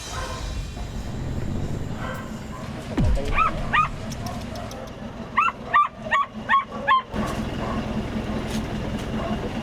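Dogs rescued from the dog meat trade whimper and yelp in short, high cries, one at a time and then in a quick run of bursts, over a low background rumble.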